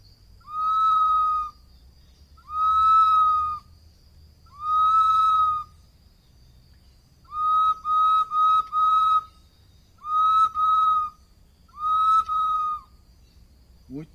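Bird-call whistles, pipes used to imitate a red-headed cardinal and similar songbirds, sound in loud, clear pure-toned calls, first three long slurred notes and then quicker doubled and tripled phrases, close and alone over a faint hum.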